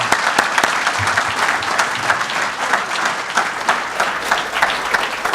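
A conference audience gives a loud, sustained round of applause for a keynote speaker, with dense clapping that fills the room throughout.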